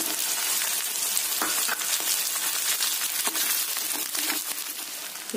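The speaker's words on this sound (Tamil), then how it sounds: "பூண்டு எண்ணெயில கொஞ்சம் வதங்கி வரணும்" Garlic and small onions sauté in oil for poondu kozhambu, a Tamil garlic curry. A close, steady sizzle runs throughout, dotted with clinks and scrapes of stirring.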